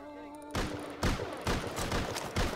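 AK rifle fire from the Rust video game crackles in rapid bursts of loud, close gunshots that start abruptly and repeat several times, after a brief quieter stretch with a faint voice.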